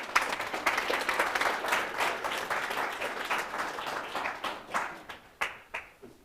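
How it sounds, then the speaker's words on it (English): A church congregation applauds a welcomed guest, a dense wash of clapping that holds steady and then thins into a few scattered, louder individual claps near the end. "we'll give a round of applause for him"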